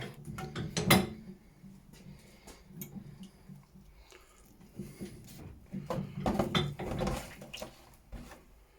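A hand-cranked sausage stuffer filling pheasant sausage skins makes irregular mechanical clicks, ratcheting knocks and soft squelching thumps, loudest in bursts near the start and again toward the end.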